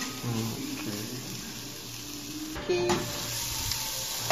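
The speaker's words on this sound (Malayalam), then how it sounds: "അതുവരെ നല്ലപോലെ ഇളക്കി ഒന്ന് ഇളക്കി കൊടുക്കും." Vegetables fry in a pan for chicken macaroni, giving a steady close sizzle while a spoon stirs them with occasional scrapes and knocks against the pan, with no talk.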